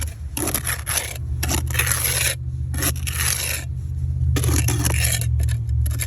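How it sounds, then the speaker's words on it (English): A trowel pokes and packs sealant into a crack in a house foundation, making repeated close, gritty scraping strokes in bursts with short pauses between them. No one speaks. "Start slathering a little bit of this product in there. And poke it inside with your trowel."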